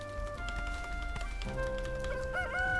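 A chicken wandering around in the Valheim video game clucks and crows, tonal rooster-like calls over a steady game backdrop of layered hums and chiming tones.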